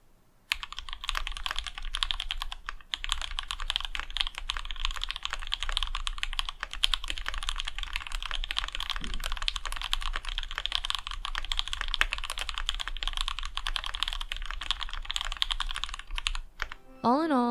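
Steady, dense typing on a Matrix Noah mechanical keyboard dampened with two layers of Sorbothane, close and loud, continuous keystrokes for most of the run with a brief pause near the end.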